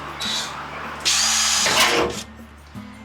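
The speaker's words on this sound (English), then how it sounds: "Let's put a hole down here." A power drill bores a hole into a 1953 vehicle's body panel near the alternator area, with two loud bursts of whirring drilling over a steady low engine-like hum, stopping and the hum continuing.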